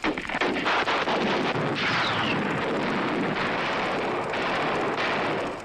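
Artillery and naval gunfire in a World War II battle on Iwo Jima, with Marines fighting ashore near Mount Suribachi: a dense, continuous roar of blasts and rolling detonations, loud and sustained without pause.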